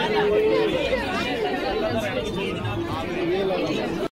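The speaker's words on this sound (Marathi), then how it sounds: "गर्दी भरपूर आहे" A dense crowd chatters inside Nidhivan, many voices blending into a constant close hubbub of overlapping talk that stays loud and steady before cutting off abruptly.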